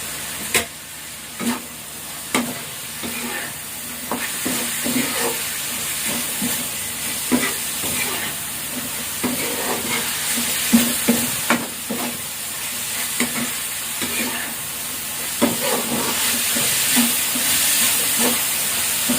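Tofu and pork sisig stir-fries with oyster sauce in a wok, giving a steady loud sizzle broken by periodic scraping and clacking of the spatula as the mixture is tossed.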